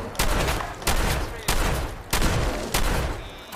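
Five loud, evenly spaced shotgun blasts in Fallout 4 crack out close up, each ringing off before the next.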